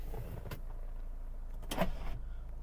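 The electric motor of a Kia Sorento's panoramic sunroof whirs in short bursts inside the quiet car cabin, with a faint click near the end.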